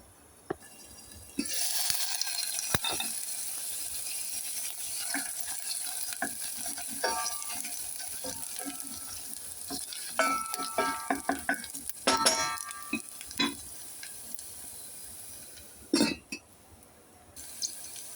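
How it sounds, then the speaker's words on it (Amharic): Onions fry in a pan with a steady close sizzle, while a utensil stirs and clinks intermittently against the metal, growing busier toward the end. "ሽንኩርት በዚህ መልኩ ተጠብሶልኝ ነው።"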